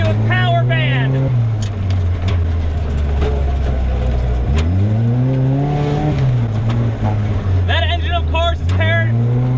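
A Tomcar TX 4x4 UTV with a CVT transmission revs hard up close, its engine droning loudly and sweeping up and down in pitch, like a jet ski revving out.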